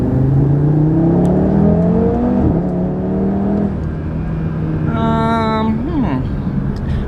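An Audi RS3 pulls at full throttle, its engine note climbing steadily and loud from inside the car, then easing off as a voice talks briefly near the end.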